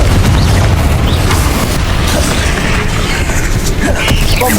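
Loud, continuous explosive spell blasts in Hogwarts Legacy combat, dense booming bursts piling up with crackling debris, close and heavy throughout, with a voice shouting partly underneath.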